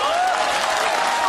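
Audience applause with crowd noise, a steady broadband patter that sounds dense and fairly close throughout the short burst, with a faint tonal sweep riding on top.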